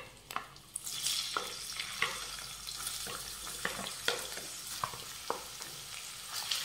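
Finely chopped onion frying in a pan with cumin and curry leaves for Maharashtrian pithla, a soft continuous sizzle punctuated by repeated scraping stirs, close and fairly quiet.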